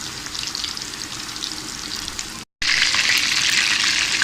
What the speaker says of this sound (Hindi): मीडियम फ्लेम पे हमने इसको फ्राई करना है